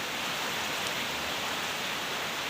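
Steady rain falls outside a temple on a wet day, a dense even hiss that stays level and unbroken throughout, with no one talking.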